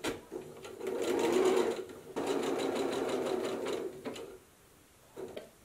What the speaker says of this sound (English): So the first thing I'm gonna do is sew them right sides together.